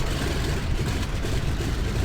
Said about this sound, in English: Good start on engine 2.